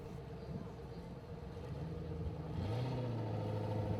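A Formula Offroad buggy at Hella revs its engine and pulls away, a rising growl that strengthens and climbs in pitch toward the end, with commentary voices underneath.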